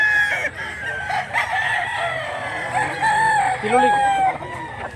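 A big rooster weighing around 21 to 22 crows with drawn-out calls and some clucking close by, while someone talks over it.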